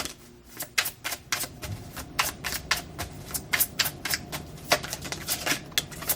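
A tarot deck being shuffled by hand, a quick series of sharp, crisp riffling card slaps in an irregular rhythm, close and fairly loud, with no talking.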